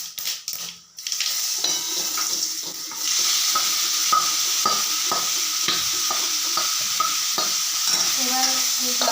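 Olives dropped into hot oil with mustard seeds and dried chilli for a chutney: a burst of loud sizzling settles into steady frying, punctuated by repeated scrapes and clinks of stirring in the pan, with no voices.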